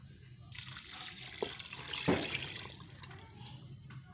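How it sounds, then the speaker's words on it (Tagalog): Broth is poured into a cooking pan holding palm oil, making a close, splashing liquid pour that starts abruptly, swells for a few seconds and then tapers off, with no voices. "Lagyan natin ng sabaw."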